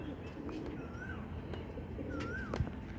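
Pigeons coo softly on a rooftop, with a few faint, drawn-out calls over a quiet background hum and low voices nearby.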